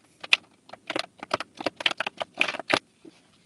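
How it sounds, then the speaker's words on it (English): Playing cards riffle and snap in quick, crisp bursts, a close rattling patter with brief pauses between shuffles. "I'm trying to get these cards shuffled up so we can get into it"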